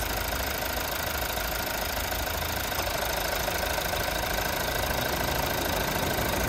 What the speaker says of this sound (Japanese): ディーゼルなんでね、やっぱりどうしてもエンジン音は大きいですね。